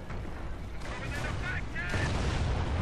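Artillery barrage in a strategy war game: dense rumbling blasts and booms roll together in a continuous heavy wash, with someone talking over them.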